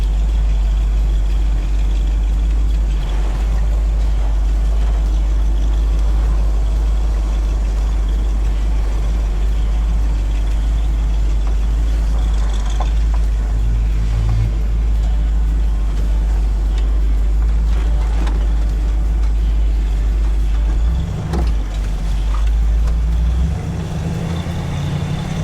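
A 1972 Ford shortbed truck with a 302 V8 and C4 automatic idles on a cold morning with a loud, steady, deep rumble up close, unbroken for the whole stretch.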